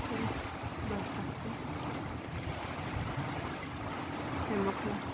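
Strong wind during a dust storm with rain in Saudi Arabia, a dense, continuous broadband roar with gusty low rumbling that stays loud throughout, like wind buffeting a microphone.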